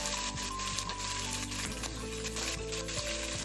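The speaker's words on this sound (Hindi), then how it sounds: "अब मैं इसमें डालूंगी लहसुन अदरक का पेस्ट" Garlic ginger paste sizzles in a pan of roasted onions while cooking chicken tikka biryani, a steady dense frying hiss with occasional scraping stirs, close and continuous.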